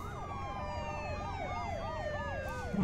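A police siren in the video game The Walking Dead, Episode 1, wails in a steady rising and falling pattern, loud and continuous, with a brief thump at the very end.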